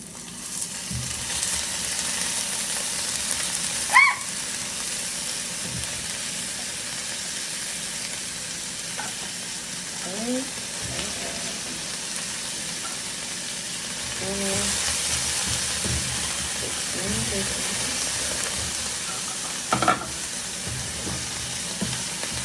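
Drained albacore tuna packed in oil sizzles in a hot pan, a steady crackling hiss that runs throughout. It swells now and then, with occasional clinks and brief faint vocal sounds close by.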